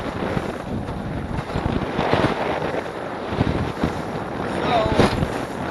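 A boat moves slowly through big swells on Lake Michigan, with steady engine and hull rumble, splashing water and wind buffeting the microphone throughout.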